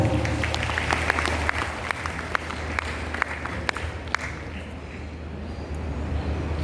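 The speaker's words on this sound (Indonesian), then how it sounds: "Tepuk tangan." A crowd applauding with scattered sharper claps standing out, steady at first and then fading as the clapping dies down.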